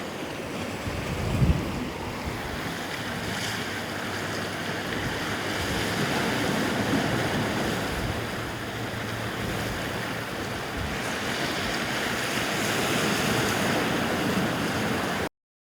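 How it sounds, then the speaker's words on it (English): Ocean waves and surf roll in continuously at a beach, a steady broad wash of breaking water with gusts of wind buffeting the microphone and a brief thump near the start. "For those of you who don't have access to the ocean,"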